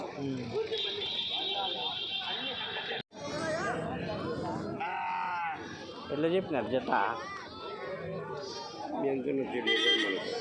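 Sheep bleat repeatedly amid a busy outdoor crowd at a weekly livestock market in Galiveedu, several animals, including lambs, calling over constant chatter and talking voices nearby.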